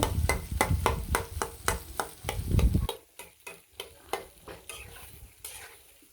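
Boiled chickpeas stirred into a fried spice mix in a pan, a rhythmic run of spatula scrapes and taps over a thick sizzle that quiets midway, leaving sharper isolated strokes.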